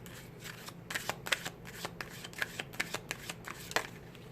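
Twin Flame Oracle cards being shuffled by hand, a steady run of crisp close riffling flicks and soft rubbing, fairly quiet and alone without talk.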